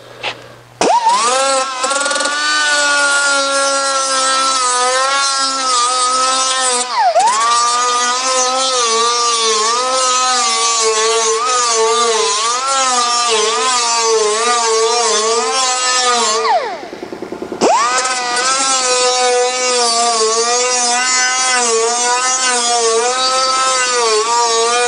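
A 50-grit Norton Rolock disc sanding sheet metal on a Jaguar E-Type bonnet: a loud, continuous high whine with a wavering pitch, broken by one brief dip partway through, no talking.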